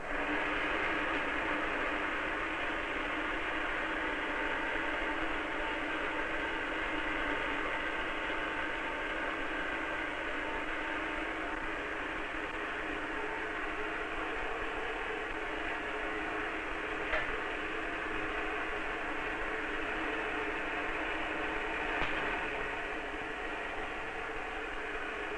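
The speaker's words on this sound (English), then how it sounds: "Start up my charging machine." An electrostatic charging machine runs with a steady, loud mechanical hum and whir that holds constant throughout, with a couple of faint ticks partway through.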